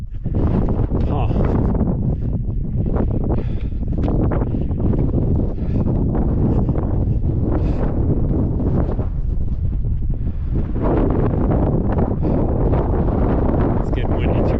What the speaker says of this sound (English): It's getting windy too.